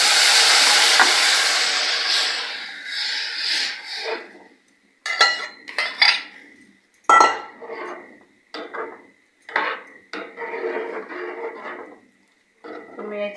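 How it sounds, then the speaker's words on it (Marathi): Taro leaf paste is poured into spices frying in oil and stirred, giving a sizzling wash at first that breaks into repeated scraping and clinking of a spoon against the pan, with a voice talking over it. "तेलात परतून झाले का आपण हे तेरी आळूचं पतपत असं ओतून घ्यायचं."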